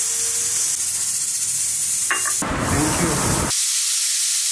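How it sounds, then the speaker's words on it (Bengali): A pressure cooker vents steam in a loud, roughly one-second hiss that cuts off sharply, set against a quieter steady background hum. "এদিকে প্রেশার কুকারে একটা সিল দিয়ে দিই।"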